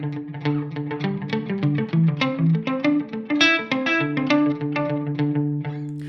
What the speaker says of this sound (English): the delay pedal is going to do its job by really filling in the rest